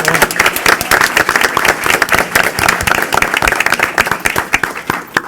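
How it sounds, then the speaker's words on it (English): At a Chicago Board of Education monthly meeting, people in the room clap for students, producing a steady, close round of many hands clapping unevenly. "Let's give them a round of applause as well."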